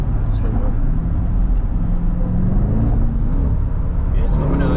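A 2022 Cadillac Escalade ESV pulling hard, its engine a loud, steady roar that fills the whole stretch with no break, while people talk over it.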